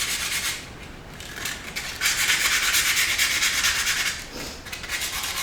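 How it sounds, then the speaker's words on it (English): Sandpaper rubs lightly over rust on a Datsun L24 engine part, a close continuous scratchy rasp in steady back-and-forth strokes with brief pauses, no talk. "So I'm just using some sandpaper and just kind of lightly sanding the rust."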